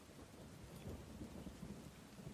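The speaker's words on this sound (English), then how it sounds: "the rain is not that quiet." Rain falls steadily outdoors under a low, rumbling thunderstorm. The sound is faint and distant, a continuous wash with deep rolling rumbles and no voices.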